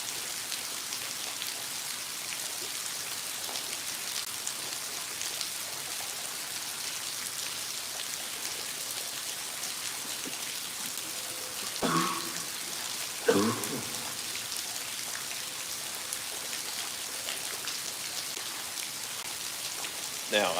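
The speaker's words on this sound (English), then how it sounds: "It's raining." Rain falling outdoors beside water with a log, a steady soft hiss of drops on surfaces throughout, with a couple of brief louder knocks or bumps near the middle.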